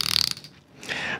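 A Lingl CDM BFS fishing reel gives a quick burst of sharp ratcheting clicks, close and fairly loud, followed by a short softer mechanical whir.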